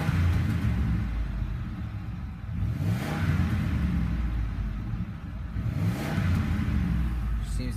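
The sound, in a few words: Ford Explorer XLT 2004 engine revving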